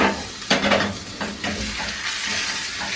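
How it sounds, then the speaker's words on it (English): A beef roast joint sears in a hot pan, giving a steady loud sizzle and hiss with scrapes and knocks as the meat is shifted with tongs. "I'm just going to sear it all over."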